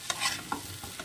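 A jackfruit curry is stirred in a pan just before prawns go in, with a few soft scrapes over a faint sizzle, brief and quiet.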